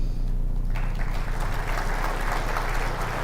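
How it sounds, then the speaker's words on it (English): Audience applause at a livestreamed UFO-network talk, a steady wash of many hands clapping that swells after the first half-second and continues evenly throughout. "And a little bit louder applause, because he was a godsend"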